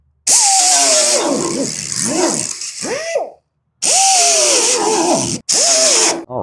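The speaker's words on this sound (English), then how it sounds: "I'm gonna use this little air grinder that Corey got us" A small pneumatic air grinder cuts into metal while a bracket is cleaned up on a 1967-1972 Ford F100 truck. It gives three loud bursts of hissing, whining grinding, and the pitch dips and rises as the load changes, with short pauses between bursts.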